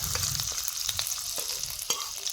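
Cumin seeds and grated ginger fry in white oil in a wok, giving a close, bright sizzle punctuated by sharp crackles and pops, with stirring scrapes and no talk.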